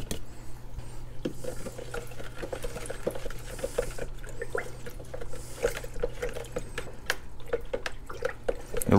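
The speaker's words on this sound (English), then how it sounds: "and then we'll add more water." Water poured into a pitcher of lime Kool-Aid drink mix, a faint trickling splash with small clinks and drips in a quiet kitchen.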